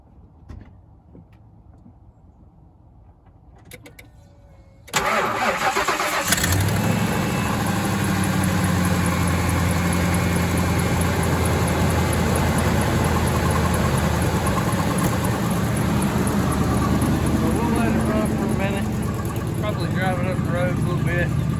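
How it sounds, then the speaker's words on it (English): A car engine, a 10th-generation model with a check-engine light on, cranks and catches after near-silence, then settles into a loud, steady idle that runs to the end. "Let's crank her up."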